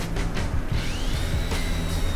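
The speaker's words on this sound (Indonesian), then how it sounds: "Tapi di sini mesin bor Beckum EB2" A Bekum EB2 electric drill bores into meranti wood, producing a loud, continuous motor whir with a rising whine as it spins up and grinding through the hardwood.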